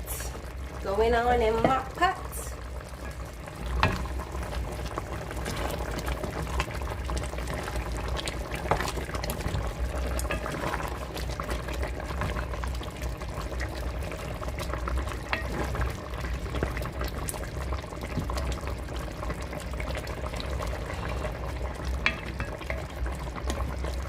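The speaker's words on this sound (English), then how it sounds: "we will leave that to simmer and thicken" Jamaican stew chicken simmering and thickening in a pot gives a low, steady bubbling with occasional stirring clinks, fairly quiet under a voice talking at the start.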